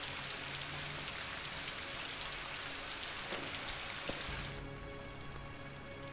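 Steady, dense rain falls throughout a London scene in the video game Rise of the Tomb Raider, a continuous wash of drops that softens slightly in the final seconds.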